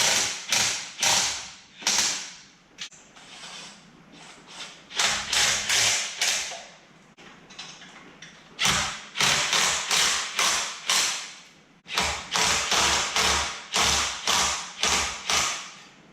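Clamps are tightened on a chopper frame jig built from scrap metal, giving rapid runs of sharp metallic ratcheting clicks in several bursts, loud and close, with short quiet gaps between them.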